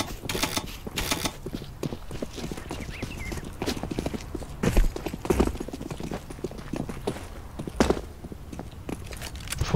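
Footsteps stomping in the game CS:GO, a run of rapid hard clip-clop impacts in uneven bursts, fairly close and loud, with scattered louder thuds.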